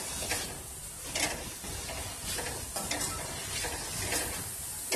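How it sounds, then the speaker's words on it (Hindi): Chicken and three vegetables mixed in a pan while making macaroni, giving a continuous close sizzle with rhythmic scraping strokes from the stirring utensil about every half second, no talk. "हमने चिकन के अंदर तीनों वेजिटेबल्स डालनी, मिक्स करेंगे"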